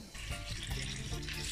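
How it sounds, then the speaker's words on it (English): Sea moss being rinsed under running water in a kitchen sink, a steady close splashing and trickling with no talk. "I'm gonna rinse it off"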